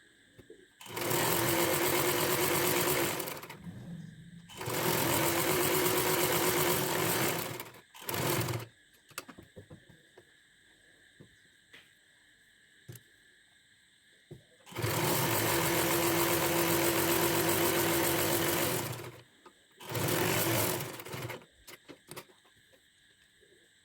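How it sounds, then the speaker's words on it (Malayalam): A sewing machine stitching along three sides of a pillow cover, running in loud steady bursts of several seconds each with quiet pauses between, close up and without talk. "3 വശങ്ങൾ സ്റ്റിച്ച് ചെയ്ത് കൊടുക്കുക."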